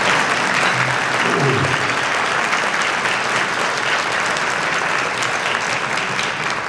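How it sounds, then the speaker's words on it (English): A room of guests at a high school alumni hall of fame luncheon gives a sustained round of applause, loud and dense clapping that holds steady, with a brief voice briefly audible early on. "Give her a round of applause"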